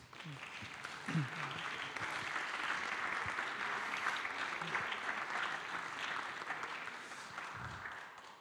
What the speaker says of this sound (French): On peut vous applaudir, ouais.